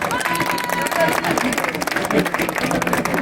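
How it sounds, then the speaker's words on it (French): Spectators at an outdoor association forum in Paris's 18th arrondissement clap for a taekwondo demonstration, with scattered sharp claps and murmuring crowd voices mixed in, moderately loud and uneven throughout. "Acclamation s'il vous plaît."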